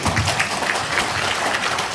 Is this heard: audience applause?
yes